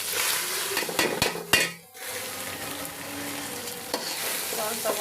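Pulao rice frying in oil in a pot, a bright continuous sizzle broken early by a few hard metal spoon clanks against the pot, then settling into an even hiss with soft stirring scrapes.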